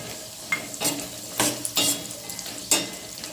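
Cashews fry in ghee in a pan while a spoon scrapes through them in several distinct, rhythmic strokes over a soft, close sizzle.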